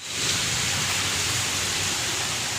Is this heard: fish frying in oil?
no